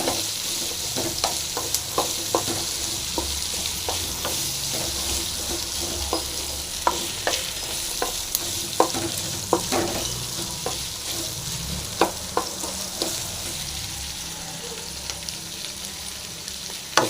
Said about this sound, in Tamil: அடுத்தது பச்சை மிளகாய். இது மட்டும் நல்லா ஃப்ரை ஆகட்டும்